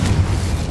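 A Bombarda spell detonates in Hogwarts Legacy, a loud, close, rumbling blast with a dense low boom that sustains briefly.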